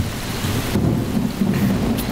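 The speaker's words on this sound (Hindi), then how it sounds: "बहुत बारिश हो रही है" Heavy rain pours in a dense, steady hiss with low rumbling thunder beneath it, loud and continuous with no voices.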